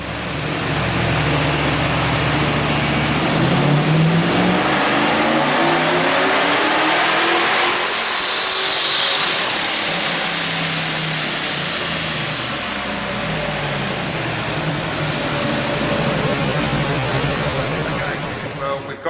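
A Holden VS Maloo ute with a Vortech supercharger revs hard on a dyno, a loud sustained engine roar that climbs to a high supercharger whine, peaks, then settles back.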